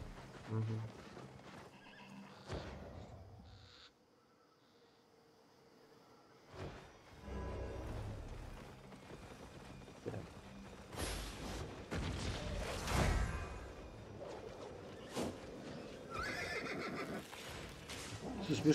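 A horse in the video game Albion Online neighs loudly, with galloping hoof clops and game effects around it, while people talk intermittently over the long stretch.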